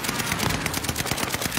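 Rapid automatic gunfire in a multiplayer shooter video game, a dense loud burst of repeated shots with steady rhythm throughout.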